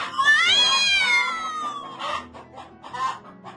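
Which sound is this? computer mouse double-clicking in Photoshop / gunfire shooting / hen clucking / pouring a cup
hen clucking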